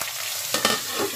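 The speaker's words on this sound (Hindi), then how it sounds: "ये मैंने राई ले रखी है, इसमें डाल के" Mustard seeds dropped into hot ghee with curry leaves, giving a loud, close, steady sizzle and crackle with a couple of sharper pops.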